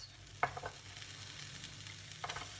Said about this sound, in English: the oil is warming up, so I'm going to add my sweet peppers